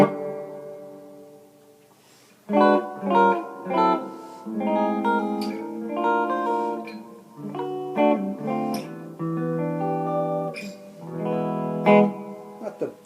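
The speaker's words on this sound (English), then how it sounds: "then we go around to type 3, which is the reverb" Electric guitar played through the reverb setting of a BOSS ME-20 multi-effects pedal, a run of picked notes and chords with a modest ambient tail, starting after a quiet pause and continuing steadily.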